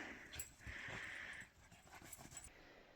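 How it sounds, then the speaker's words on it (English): Dogs whimper faintly with a long high whine and some soft panting and shuffling, recorded at a distance with no talking. "And there's the dogs."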